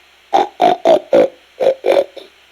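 A person imitating a pig with a run of short, nasal grunts, six or seven in quick succession, close and fairly loud.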